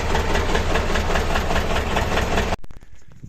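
A heavy diesel tractor engine idles loudly and steadily up close, a continuous low chugging rumble that cuts off abruptly near the end.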